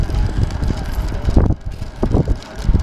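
Wind blowing outdoors, rough gusty buffeting across the microphone that rises and dips irregularly, loud and close, with no talk.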